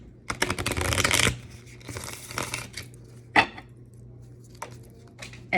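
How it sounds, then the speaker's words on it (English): Oracle cards are shuffled by hand in two quick riffling bursts, followed by scattered single snaps and light shuffling taps, close and dry with no talking. "One more shuffle."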